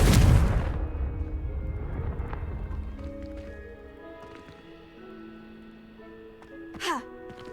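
A Confringo fire spell explodes in the Hogwarts Legacy video game with a loud burst right at the start, followed by a crackling, fading tail, scattered game effects and a brief whooshing sweep near the end.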